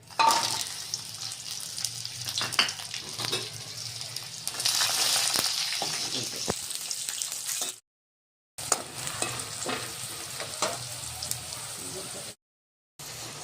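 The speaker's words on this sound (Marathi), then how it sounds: "याची मी साल नाही काढलेली साली सालीसकटच मी तळून घेणार आहे" Whole unpeeled garlic cloves frying in oil in a wok give a steady, close, bright sizzle with occasional stirring scrapes, broken by two brief silent cuts.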